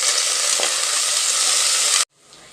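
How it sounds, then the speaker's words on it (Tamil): Chopped onions, green chillies and curry leaves sautéing in hot oil, a loud, dense sizzle that holds steady for about two seconds and then cuts off abruptly to near quiet. "ரெண்டு பச்சை மிளகா கருவேப்பிலை இதை போட்டுக்கிறேன் இப்போ அதை நல்லா வதக்கிக்கலாம்"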